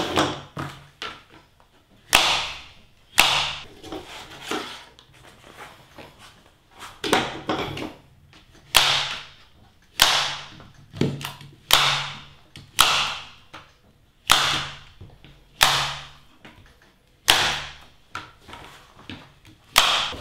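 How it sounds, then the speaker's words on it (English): Staple gun firing into thin vinyl cloth stretched over roof panel corners, sharp snapping shots repeated about a dozen times at a steady, unhurried pace, close and fairly loud, with faint rustling between shots. "So I put some extra staples in just to make sure it's held."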